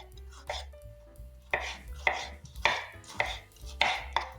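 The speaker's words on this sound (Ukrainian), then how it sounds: "Нарезала вот так я кубиком абрикос" A knife chops apricots into cubes on a cutting board, a series of crisp, close knocks in quick succession with short pauses.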